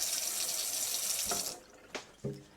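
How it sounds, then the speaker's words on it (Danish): A sink tap opened fully, set midway between hot and cold, water pouring steadily into the basin for about a second and a half, then shut off, followed by a couple of faint knocks and clinks. "Men ellers så skal den vandhane åbnes helt."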